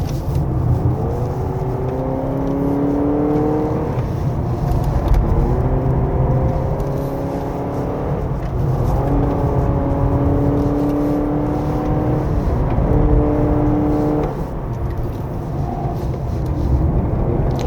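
A 2025 Honda CR-V Hybrid 4WD in sport mode accelerating hard at high RPM on a winding mountain road, its engine droning in repeated rising sweeps from inside the cabin.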